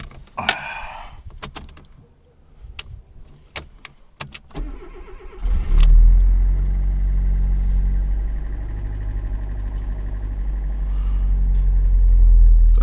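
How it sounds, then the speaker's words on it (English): A car running honey as engine oil is cranked on a frosty morning without firing: keys jangle and a few sharp clicks, then a loud, sustained low mechanical drone of the starter that grinds on to the end. "Let's try to start it."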